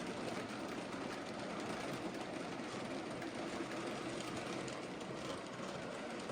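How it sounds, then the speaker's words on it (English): A G2A Super D model locomotive pulls a rake of unfitted vans across a bridge, producing a faint, continuous mechanical rumble and whir that holds steady throughout. "on track number 1 we've got the G2A Super D, pulling the rake of unfitted vans"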